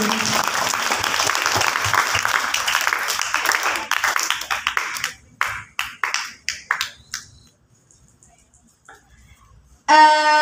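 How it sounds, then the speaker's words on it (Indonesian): A room of people applauds for a barbershop owner at an alumni gathering, full clapping that thins into scattered individual claps and fades to quiet, followed by a brief burst of sound at the end. "Tepuk tangan buat beliau Mas Lutfi."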